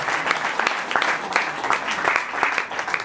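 An audience at the Théâtre Gérard Philipe applauds a performer loudly, a sustained, dense round of clapping with rhythmic accents, fairly close and steady for the whole stretch.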